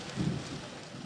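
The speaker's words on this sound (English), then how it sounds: "Did you hear that thunder?" A low, distant rumble of thunder rolls through steady rain hiss, fairly faint and broad, swelling briefly before fading back into the rain.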